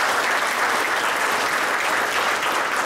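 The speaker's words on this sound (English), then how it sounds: "Can you all give a clap of his hands?" A church fellowship congregation claps together in a loud, even wash of applause that holds steady from start to finish, with no talking over it.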